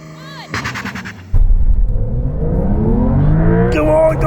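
A Porsche 911 GTS and an electric Porsche launch side by side in a drag race, a sudden loud roar of acceleration that builds and rises in pitch, with voices shouting over the start.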